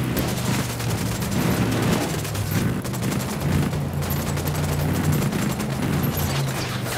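Sustained in-game gunfire from Ghost Recon Wildlands, with overlapping bursts and rapid shots forming a loud, continuous fusillade alongside a low rumbling bed throughout.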